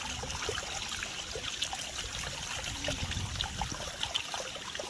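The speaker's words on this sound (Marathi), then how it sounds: "हे बघा, इथून पाणी वाहतंय शुद्ध निर्मळ मस्तपैकी." Spring water flows steadily at the Ekvira temple near Karla, a soft, continuous trickle and gurgle heard fairly faint and alone, without any voices.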